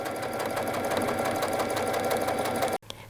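A sewing machine runs steadily as it stitches fabric along a 5/8 inch seam line, its fast, even mechanical whir continuous and close before stopping abruptly near the end.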